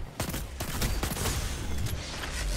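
Rapid Arbalest weapon shots ring out in a Destiny 2 PvP match, a dense run of sharp, loud reports stacked close together over a constant busy game bed with no talking.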